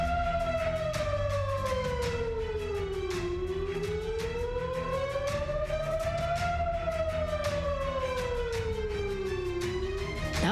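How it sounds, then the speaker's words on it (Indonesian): An air raid warning siren sounding in Israel, a distant, steady wail rising and falling slowly in long sweeps, continuous and unbroken throughout. "Suara sirene yang tak kunjung berhenti adalah alarm untuk warga agar segera mencari tempat"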